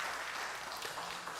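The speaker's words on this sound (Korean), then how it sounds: "우리 한번 뜨겁게 박수 부탁드리겠습니다." A church congregation applauding during a Sunday afternoon service, a soft, steady wash of many hands clapping at a distance and faint in the room.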